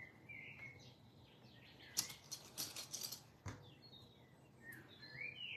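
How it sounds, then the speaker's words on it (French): Small birds chirp faintly in the background, with scattered high tweets and a few soft rustling clicks nearby in a quiet indoor room. "Est-ce que vous entendez toujours mes petits oiseaux?"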